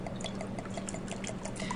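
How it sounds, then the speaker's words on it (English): Water poured into a glass beaker in a classroom chemistry demonstration, a steady soft trickle and splash lasting under two seconds, fairly quiet with no talking. "in this beaker I'm going to pour some water"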